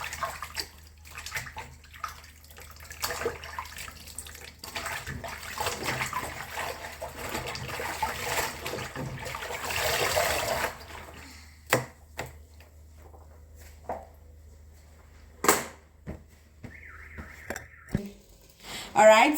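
Pumpkin leaves being washed in a sink, running water splashing and sloshing close by, then thinning into irregular trickles, drips and light knocks.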